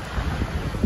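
Steady gusting wind buffets the microphone with a low rumble, waves and open-water noise beneath, on the deck of the cruise ship Grand Princess at sea.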